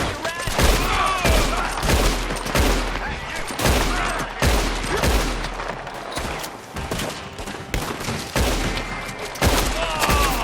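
Dense, continuous gunfire in the online Western shooter Red Dead Online, loud overlapping shots and booming bursts in rapid succession with a thick rumbling backdrop throughout.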